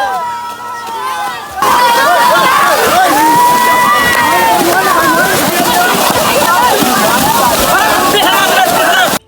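Water sloshes and splashes in a crowded outdoor swimming pool at a park in Meherpur, almost buried under loud, continuous shouting and the excited voices of many people close by.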